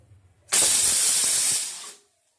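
A pressure cooker on a gas stove lets out one sharp, loud burst of steam whistle lasting about a second and a half, cooking lentils for a Bengali shukto dal, and the hiss cuts off abruptly into silence.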